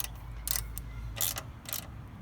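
Ratchet tightening the swing arm bolts on a Honda C125 Super Cub, a few short bursts of rapid clicking separated by pauses, close and fairly quiet over a low hum.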